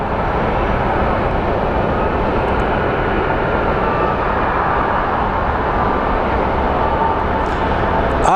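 Envoy Air Embraer regional jet at Phoenix Sky Harbor, a loud, steady broadband jet roar that holds unbroken and close throughout, with no voices.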